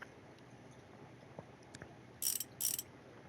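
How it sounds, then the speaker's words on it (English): Bolts fasten a rotor onto a motorcycle in a mechanic simulator game: a few faint clicks, then two short, bright ratcheting bursts close together, with quiet background between them. "now we put the rotor on. With all 6 bolts to hold it on."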